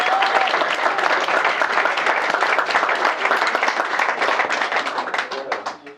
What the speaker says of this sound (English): give a round of applause for everybody that's helped out today